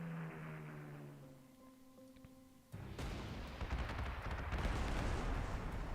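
A Stuka dive-bomber strikes an anti-aircraft position in Panzer Corps 2, with a low droning tone giving way to a sudden loud, rumbling burst of explosions that rolls on with dense, heavy crackle to the end.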